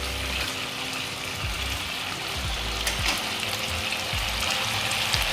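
Fish turned in spice paste in a hot pan for a Bengali doi mach curry, a continuous close sizzle with soft scraping strokes from the stirring, no voices.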